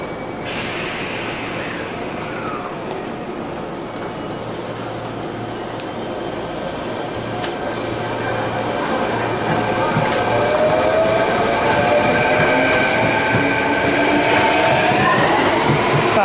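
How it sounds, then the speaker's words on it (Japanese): Steady interior running noise of a Kintetsu train heading toward Nara, a continuous low rumble with rising wheel and motor whine that grows louder in the second half, no talking. "こちらの電車で、ね、乗車してまいりました"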